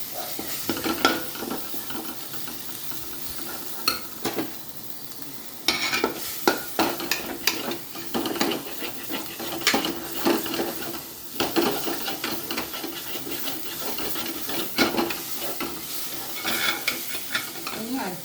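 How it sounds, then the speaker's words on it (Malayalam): Chopped tomatoes fry in a masala for mutter paneer, a steady close sizzle with repeated scraping and stirring strokes of a spoon in the pan throughout. "ഇനി നമുക്ക് തക്കാളി മുറിച്ചിട്ടത് കൊടുക്കാം"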